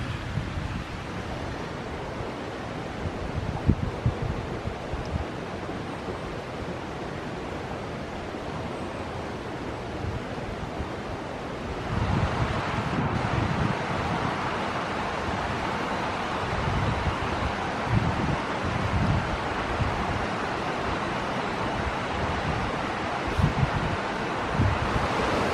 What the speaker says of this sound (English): There's two little streams join in.